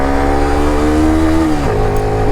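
A motorcycle engine pulls in second gear up a steep mountain road in Bangladesh. A loud, steady droning note is held near the rider, then its pitch dips sharply as the load changes.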